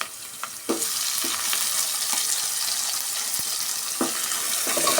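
Tomatoes fry in a pan for potato sagu with a loud, dense, continuous sizzle, close by, dotted with a few short knocks of stirring.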